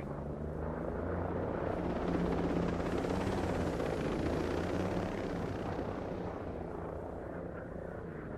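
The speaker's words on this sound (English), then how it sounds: "I got eyes on an enemy chopper." An enemy helicopter in the video game Ghost Recon Breakpoint flies overhead, a steady, loud rotor thrum and engine rumble that swells to a peak midway and then slowly eases off, with no talking.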